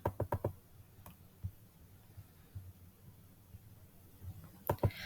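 A few sharp computer keyboard clicks come in a quick burst at the start, one lone tap follows, and another short cluster lands near the end, all over a quiet steady hum with no talking.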